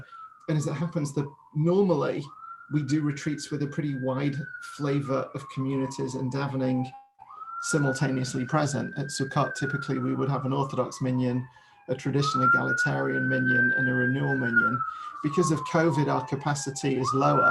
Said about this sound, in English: I'm sorry about that siren outside.